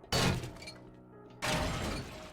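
Glass shatters in 7 Days to Die, two sharp, loud breaking crashes with a short quiet gap between them, each trailing off into tinkling debris.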